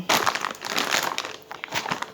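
Plastic bag of Yahotyn milk, 3.2% fat and 900 grams, handled and squeezed up close, giving bursts of crinkling and crushing rustle across a couple of seconds with no talk over it.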